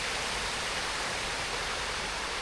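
Heavy water pours down Sai Yok Waterfall after a night of heavy rain, a steady, dense roar that holds unchanged from start to finish with no voices.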